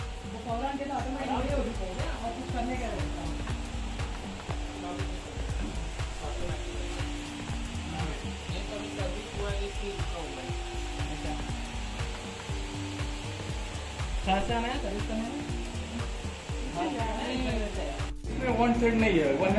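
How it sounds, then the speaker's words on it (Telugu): A Banaras saree weaving loom machine in a Varanasi workshop clatters continuously with rhythmic mechanical knocking and rubbing, loud and near, while people talk over it. "ఇక్కడ శారీస్ తయారు చేసే మిషన్ చూడండి"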